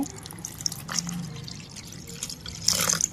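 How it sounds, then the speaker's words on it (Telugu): Water is poured into a bowl of tamarind to soak it. A soft, faint splash and trickle sounds over a quiet room, swelling briefly near the end. "కొంచెం వాటర్ ఎక్కువ పోసుకుని నానబెట్టేసి పక్కన పెట్టేసుకుందాము"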